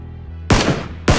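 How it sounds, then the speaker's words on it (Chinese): Two sharp gunshots ring out in the PUBG battle royale game, each a loud crack with a short tail, spaced about half a second apart. "你在开枪啊？"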